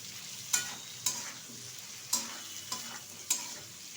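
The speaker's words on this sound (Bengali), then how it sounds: "একটু হালকা করে চিংড়ি মাছটা ভেজে নিয়েছি।" Shrimp lightly frying in a pan, a quiet background sizzle broken by five sharp scraping stirs at irregular intervals, close and faint.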